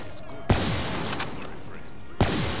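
Two sharp gunshots ring out well apart in Call of Duty: Black Ops 3 Zombies, loud and close over a steady game background.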